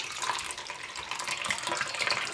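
Homemade almond milk streams out of a straining bag in a steady, close splashing trickle, like liquid running into a container, with no talking.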